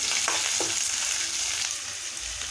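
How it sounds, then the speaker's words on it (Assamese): Onions fry in a pan in a home kitchen, a steady crackling sizzle with a couple of quick scraping stirs near the start, then the sizzle continuing alone with no voices. "পিঁয়াজখিনি ব্ৰাউন কালাৰ হোৱালৈকে ভাজি ল'ম"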